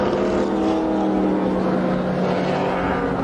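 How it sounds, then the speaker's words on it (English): A normally aspirated V12 engine drives a white and green IMSA GTP prototype at Riverside in 1985. Its loud, sustained, droning roar holds steady the whole time, heard up close with no clear pass-by swell. "Normally aspirated V12 engine pulling that white and green car"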